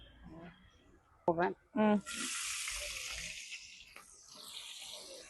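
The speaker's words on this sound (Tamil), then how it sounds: "எண்ணெய் கொதிக்கும்." A voice speaks briefly, then hot oil in a pot hisses and sizzles steadily until the end.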